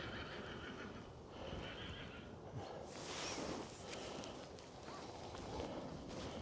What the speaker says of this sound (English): There's a lovely horse over there.